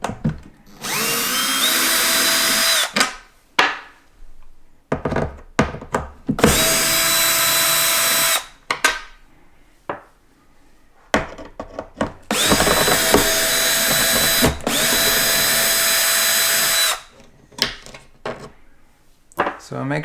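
Power drill whirring in three long bursts as it backs the screws out of a Marshall MG100 guitar amp chassis, with short clicks and handling noise between runs and a bit of quiet talk.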